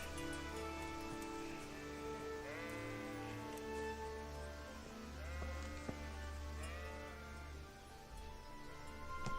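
Sheep bleat repeatedly in the medieval game Kingdom Come: Deliverance, several drawn-out calls rising over a steady low ambient bed, close and clear with no speech.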